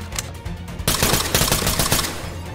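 Rapid bursts of gunfire in Ready or Not, close and loud, a dense crackling volley of shots following a few softer earlier pops, with no talk.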